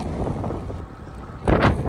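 Strong wind gusts buffeting a cyclist on a road near Montpellier, a loud rumbling roar against the microphone that eases briefly, then surges in a sharp blast.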